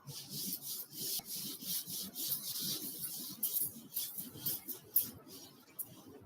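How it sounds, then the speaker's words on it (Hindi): A drawn economics diagram is rubbed off a board with an eraser, giving a steady, close scratchy rubbing in quick repeated strokes for several seconds, with no voices. "so I am going to rub this one and do the next one"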